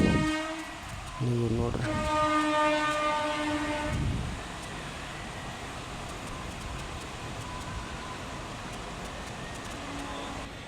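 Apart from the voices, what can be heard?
train passing by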